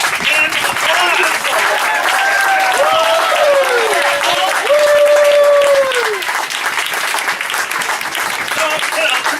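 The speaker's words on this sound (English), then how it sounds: "he needs a big hand of applause" Sustained applause from a crowd at a 2013 Wayfarer sailing world championship, steady clapping throughout with a few voices and whistles rising over it.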